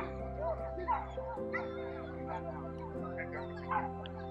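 Dog barking at a fishing show at the Del Mar Fairgrounds in San Diego, with a few yips heard amid music and crowd noise.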